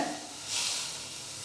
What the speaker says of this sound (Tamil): ஒரு டேபிள் ஸ்பூன் அளவுக்கு நம்ம எண்ணெயை சூடான எண்ணெயை நம்ம சேர்த்துடலாங்க